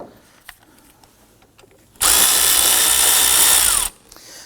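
A power tool spinning out an engine torque strut mount bolt on a 2015-2024 Nissan Murano 3.5L V6, one loud close burst of whirring for about two seconds after near silence.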